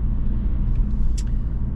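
An Alpina B4 S BiTurbo convertible cruises on a dike road, giving a steady low engine and road rumble from inside the car.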